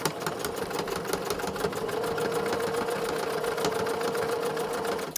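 Up close, a sewing machine runs continuously while stitching a fleece headband, a steady rapid clatter with a mechanical hum, ending abruptly as it stops.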